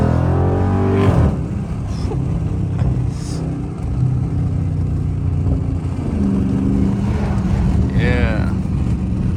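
Dodge Hellcat or Scat Pack muscle car pulling hard, a loud rising engine roar with rumbling low end that swells and sweeps upward, heard close and steady throughout with wind buffeting.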